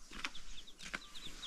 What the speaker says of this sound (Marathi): आणि इकडे ही कोंबडी